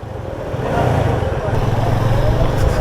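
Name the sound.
motorcycles riding on an off-road trail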